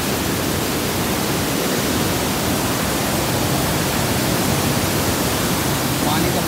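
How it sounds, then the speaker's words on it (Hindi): Loud, steady roar of rushing floodwater released through open gates at the India–Pakistan border, a dense broadband wash with no breaks, close and continuous throughout. "यहाँ पर शोर बहुत ज़्यादा है पानी की वजह से"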